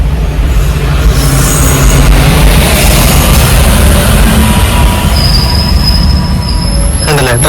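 A train passes close by, its wheels squealing in sustained high-pitched tones over a loud, continuous rumble of rolling railcars; no talk is heard.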